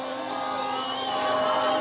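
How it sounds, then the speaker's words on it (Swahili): Crowd cheering and whooping at an ODM party political rally in Kakamega, a steady mass of voices with applause spread evenly through the short stretch, moderately loud and close. "Tumpigie makofi tafadhali."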